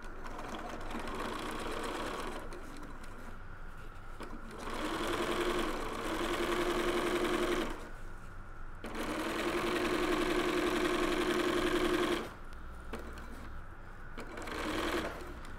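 A sewing machine stitches a zipper onto a reusable snack bag in two sustained runs of close, rapid whirring, with short pauses and quieter handling between bursts.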